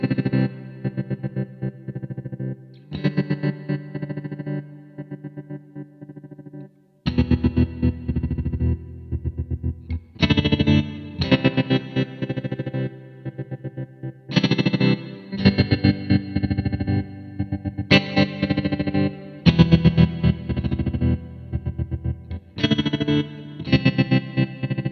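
Electric guitar played through a Strymon Mobius set to rhythmic tremolo, chords pulsing in choppy patterned bursts with breaks between phrases, swirling chorus-like modulation and some grit, no voices.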